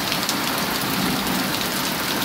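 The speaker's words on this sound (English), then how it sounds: "This is an intense storm." Intense storm rain with pea-sized hail pours down in a dense, loud, continuous hiss and patter, close and steady with no voices.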